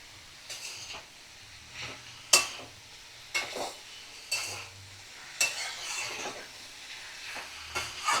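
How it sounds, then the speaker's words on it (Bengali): Bottle gourd and shrimp fry over a medium flame while being stirred. A low sizzle sits under regular, close scraping strokes of a spoon against the pan, several seconds apart, with no speech. "আমি 5 থেকে 7 মিনিট চিংড়ির সাথে লাউ কষিয়ে নেব।"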